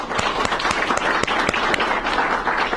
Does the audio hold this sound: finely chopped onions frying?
no